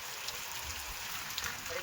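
Steady rain falls on surfaces along a rural road near Wankaner, a dense, close hiss of drops with a few sharper splashes.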